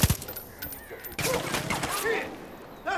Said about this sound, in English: Oh, it's fucking snipers.